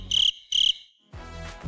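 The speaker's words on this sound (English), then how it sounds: "again, the cricket sound" Cricket chirping used as a sound effect: two sharp, bright chirps followed by a softer, hazier chirping trill, alone and clear.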